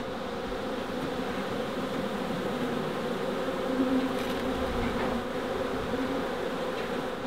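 Honey bees buzzing steadily around old brood comb from a cut-out colony, a dense, continuous hum heard close up with no voices.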